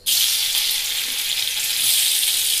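Pieces of alu wadi, colocasia leaf rolls, hit hot oil and fry with a loud, steady, close hiss that continues evenly throughout, with no talking over it.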